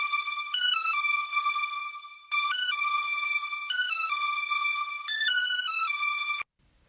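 A bright synth melody layer from an FL Studio beat, a high-passed bell-like tone stepping through a repeating phrase of sustained notes, playing alone at moderate level before cutting off abruptly near the end.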